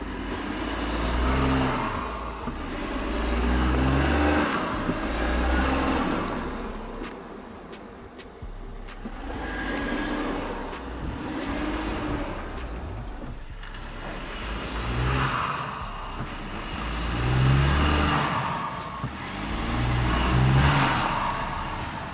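An Audi Q8 SUV climbs an off-road trail and crosses a diagonal-suspension obstacle with traction control working, its engine revving and surging in repeated pushes, loud and close throughout with no talk.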